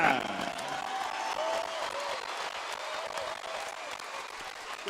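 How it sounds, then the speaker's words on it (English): A boxing match crowd applauds, a continuous wash of clapping from a large audience at middle distance with a voice talking over it. "A round of applause for Deji."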